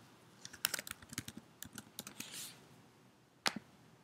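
Computer keyboard typing in a quiet room: a quick burst of irregular key clicks over about two seconds, then a pause and one or two louder keystrokes, close and clear with no speech.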